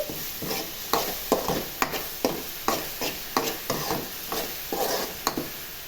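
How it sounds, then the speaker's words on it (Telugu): Ginger paste and green chillies fry in hot oil for an egg masala curry, with a soft sizzle under quick, rhythmic spoon strokes scraping the pan about twice a second. "పచ్చిమిర్చి అయితే పచ్చివాసన పోయే వరకు ఫ్రై అవ్వనివ్వాలి."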